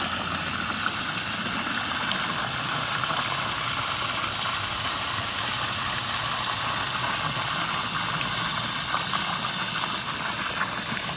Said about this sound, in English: Running my waterfall.